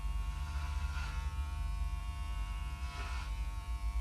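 Electric hair clipper with a guide attachment working close to the head during a home haircut, giving a steady low buzz and hum throughout, with brief brighter swells as the blades move over hair.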